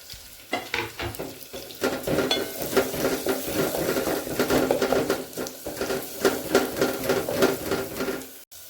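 Sliced onions and green chillies sizzle and fry in a pan while being stirred for a ridge gourd and chana dal curry, a steady crackling hiss broken by repeated scraping strokes of the spoon.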